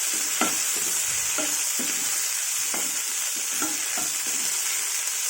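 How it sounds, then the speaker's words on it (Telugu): Tomatoes fry in a pan for a mint and sesame chutney, a close, steady sizzle with soft scraping stirs at a regular pace and no voices over it. "దీంట్లో టమాటాలు వేసుకొని ఒక 2 మినిట్స్ మగ్గబెట్టుకున్నాం అనుకోండి."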